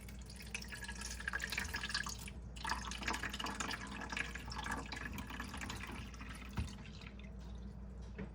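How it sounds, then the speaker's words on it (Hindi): Water is poured into a coffee maker's reservoir, a quiet, continuous splashing and trickling at close range with small drips, faint overall. "यहाँ पानी डलता है।"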